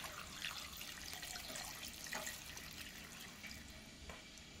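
Half a litre of water poured into a cooking pot of okra sauce with oxtail and smoked chicken, making a soft, continuous splashing trickle with faint drips at a quiet level, no speech.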